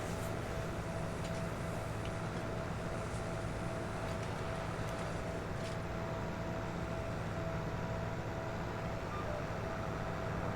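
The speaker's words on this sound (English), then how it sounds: "Got a Kubota tractor on a Kubota baler." A Kubota tractor pulling a Kubota baler in Farming Simulator 22 gives off a faint, even engine hum with a constant mechanical whine, steady for the whole stretch with no talk.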